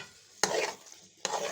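Pumpkin halwa is stirred as it fries in ghee in a pan, two brisk scraping strokes with a soft sizzle between them, close and alone.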